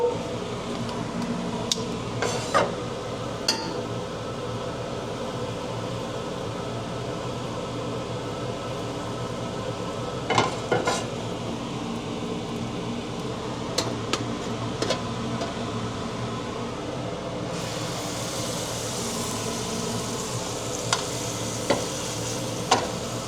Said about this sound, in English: So I'm going to just quickly sear all the sides on a frying pan with some butter.